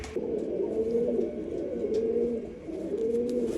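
Rajan-breed pigeons coo in repeated low, throaty phrases, close by, with faint background noise and no talking.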